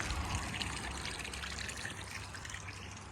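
Ice-cold spring water runs steadily at a lakeside campsite by Lake Ohrid in Albania, making a continuous close trickle and splash with no pauses and no voices.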